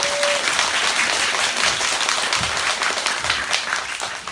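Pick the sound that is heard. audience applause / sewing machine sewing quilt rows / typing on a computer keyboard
audience applause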